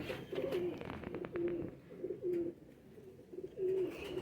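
Kabuli high flyer pigeons cooing in a series of low, rounded coos that come in repeated short bursts, close by and moderately loud, with faint background noise between the calls.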